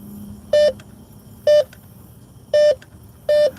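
A Bounty Hunter metal detector sounds four short, identical electronic beeps at irregular intervals, each a clear tone standing above a low outdoor background hum.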